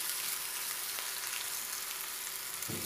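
Oil sizzling around idlis in a pan for dry masala idli, a steady close-up crackling hiss throughout, with no talking.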